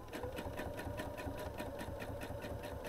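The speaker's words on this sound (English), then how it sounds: "I'm gonna put my needle down, and all I did was a simple edge stitch." A sewing machine edge stitches quilt-as-you-go hexagon pieces, its rapid, steady needle hum and rhythmic mechanical pulsing running continuously and up close, with no speech.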